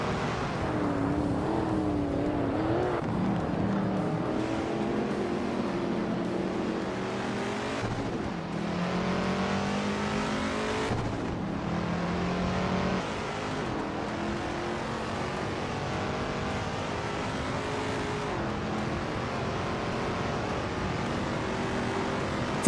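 Several race car engines drone and rev steadily in a racing game with a 1967 Chevrolet Impala SS in the field, a continuous layered roar with rising and falling gear pitches and no pauses.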